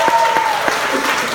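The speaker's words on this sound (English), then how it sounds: "Give Jubal a round of applause." A comedy club audience applauds steadily, dense clapping filling the room, with a brief tone and a voice faintly under it.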